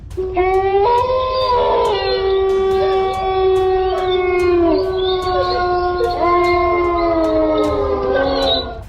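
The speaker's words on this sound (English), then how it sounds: "what makes this video even creepier is the unexplained howling" Eerie, loud howling rises and holds in long, wavering tones, with overlapping voices sliding up and down, set against a faint rhythmic ticking background.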